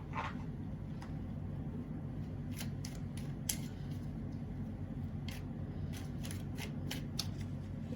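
Custom tarot cards being shuffled and pulled, a series of crisp riffling snaps and flicks scattered over a low steady background hum, close and fairly faint, with no talking.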